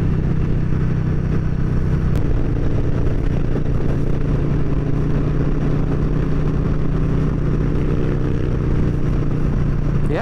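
A Harley-Davidson motorcycle fitted with a loud Vance and Hines 2-1 exhaust rumbles continuously at cruising speed on an open road, a deep steady engine drone heard close with wind noise.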